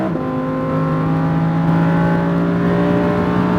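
A Lamborghini Huracan on a SpeedVegas track roars loudly and steadily as it accelerates in first gear, its engine tone rising gradually, close and continuous.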